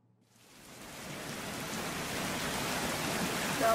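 Steady, heavy rain fades in and settles into a dense, continuous hiss with no voices, loud and enveloping throughout.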